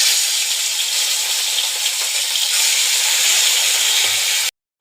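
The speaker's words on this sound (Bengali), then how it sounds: "আমি এখানে দেখুন কড়াইয়ে ঘিটা গরম করে নিয়েছি। এবার আমি এর মধ্যে একে একে সব চিকেনগুলো দিয়ে আমি একটু ভেজে নিচ্ছি।" Marinated chicken pieces frying in hot ghee in a kadai: a steady, loud sizzle and crackle with no talking, which stops abruptly at the end.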